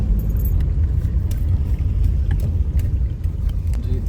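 A car driving uphill on a mountain road toward Ganga Choti in Kashmir, heard from inside as a loud, continuous low engine and road rumble with small rattles.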